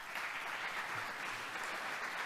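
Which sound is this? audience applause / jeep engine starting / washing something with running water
audience applause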